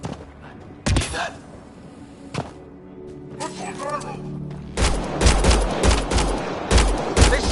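Gunfire in Mass Effect: Andromeda, a few sharp isolated shots early on, then sustained rapid bursts of loud weapon fire in the second half, with voices talking between the shots.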